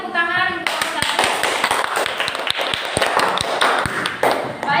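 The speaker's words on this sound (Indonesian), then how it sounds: "Silakan tepuk tangan untuk kelompok satu" A classroom of students applauding for a group, with irregular sharp claps and taps rising after a brief opening moment, fairly close, with voices mixed in.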